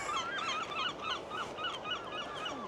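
A bird in a bear enclosure at a Yorkshire wildlife park gives a run of repeated honking, goose-like calls, steady and moderately loud against outdoor background noise, with no talk.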